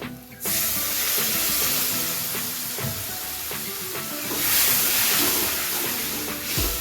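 Water splashes into a pan of frying ground spices and coriander powder, bursting into a loud, steady hiss and sizzle that swells again midway and runs on without talk.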